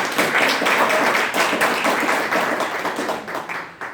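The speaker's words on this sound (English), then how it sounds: "So let's give a round of applause for Sister Josephine." Audience applause for Sister Josephine at a Saturday women's community gathering, a steady wash of many hands clapping that holds for the whole stretch and fades slightly at the end.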